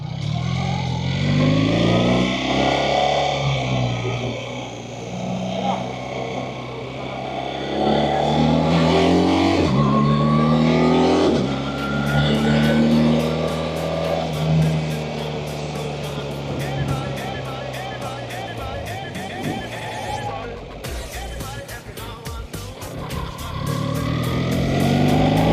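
A BMW R1300 GSA motorcycle ridden on an open road, its engine rising and falling through repeated accelerations and gear changes, loud and close, with a rider's voice and wind noise over it.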